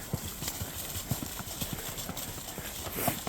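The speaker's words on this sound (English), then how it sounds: "The horse thought it was a race there for a minute, but we got her reined back in." Horse hooves clip-clop on a road during a cattle drive, a quick, uneven run of sharp knocks at moderate distance over faint background noise.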